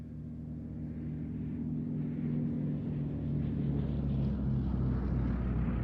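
A Westland Lysander propeller aircraft flying at Duxford drones steadily with a low engine hum, growing gradually louder as it approaches from a distance.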